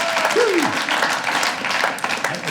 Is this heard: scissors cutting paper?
no